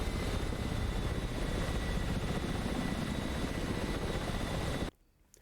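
A Ka-50 Black Shark attack helicopter in a video game, rotor and engine drone loud and steady until it cuts off abruptly near the end.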